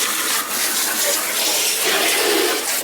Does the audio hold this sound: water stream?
yes